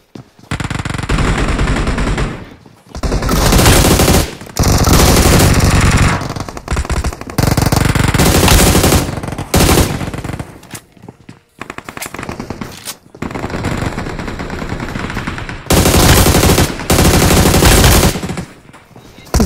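Loud bursts of automatic gunfire from the BGMI mobile battle royale game, several long rapid-fire volleys separated by short pauses, close and dominant with no talking.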